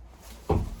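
A Murphy bed in a Keystone Passport SL 221BH travel trailer latches back into its upright position with a single short, close clunk midway through an otherwise quiet moment.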